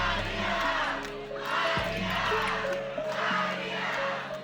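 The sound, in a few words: crowd shouting a name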